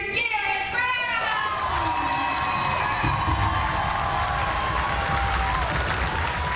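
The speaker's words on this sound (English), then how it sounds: "I want you to clap louder than you've ever clapped before" A crowd of schoolchildren claps and cheers loudly for an 8-year-old classmate, sustained applause with shouts and whoops close by, voices mixed into the din throughout.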